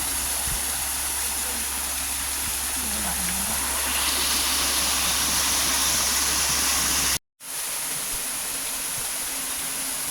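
A small waterfall at a Thai temple gives a steady, broad rushing wash of falling water, close and even throughout, briefly cut out near the end before resuming.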